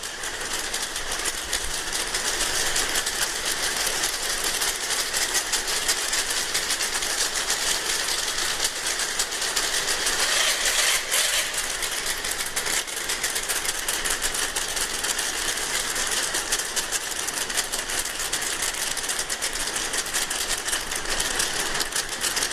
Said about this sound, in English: So when this huge flock of oil birds starts streaming in over your head,